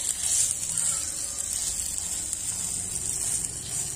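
A steady, bright sizzle of food frying in hot oil for a festive Ugadi and Tamil New Year dish, continuous and close with no pauses throughout.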